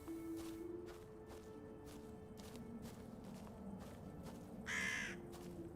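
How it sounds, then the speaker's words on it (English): A crow caws once, loud and sharp near the end, in the video game Graveyard Keeper, over quiet ambient tones and soft footsteps. "So I do hear birds"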